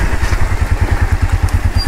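A motorcycle engine idles and putters in steady low pulses as the rider rolls into a dark tunnel, the rhythmic thumping close and fairly loud with a little clatter.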